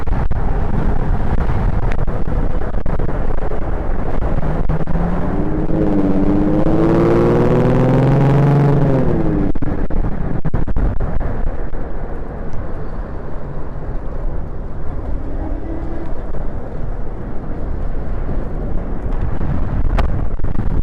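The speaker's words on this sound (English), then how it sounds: "Wow, it's so windy right now." Loud, constant roaring wind buffeting a helmet microphone, with a passing engine drone rising and falling in the middle; harsh and continuous throughout.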